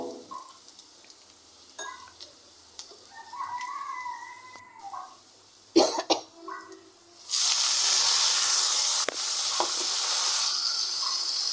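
Quiet clinks and scrapes give way to a sudden loud, steady hiss as jute leaves hit frying onions in hot oil and sizzle strongly, continuing to the end.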